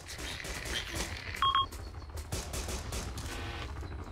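Video game gunfire in Arma II as an enemy helicopter is engaged: dense bursts of rapid automatic fire with scattered sharper reports and a short electronic beep partway through, no voices.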